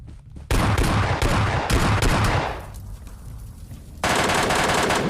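Rapid automatic gunfire from a shooting video game, loud bursts for about two seconds, a short lull, then another sustained burst.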